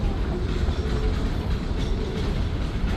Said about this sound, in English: This train, CN train, was so long that they had to detach the train twice to make it fit in